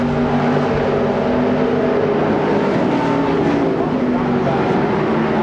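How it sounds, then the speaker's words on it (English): A NASCAR Winston Cup stock car runs laps at Indianapolis Motor Speedway during 1996 Brickyard 400 practice. A steady engine drone with tonal harmonics holds throughout, with crowd and track ambience behind it. No one speaks. "Here comes Kyle Petty out on the racetrack"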